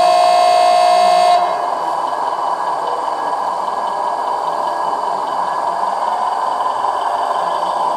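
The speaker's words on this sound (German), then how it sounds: "Und ein Signalhorn gibt es wahrscheinlich auch." Model train locomotive horn at a gauge 1 meet, a steady loud tone sounding for over a second before cutting off, leaving continuous running rumble and hiss for several seconds.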